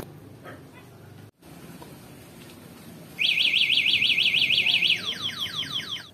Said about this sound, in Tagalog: Kapag nakalock siya, nasa parking at may gumalaw ng e-bike, tutunog siya or mag-a-alarm.